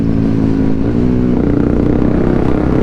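A Yamaha WR155 motorcycle on a night ride revs loudly and continuously, its engine note droning and climbing with a rough, buzzy clatter close by.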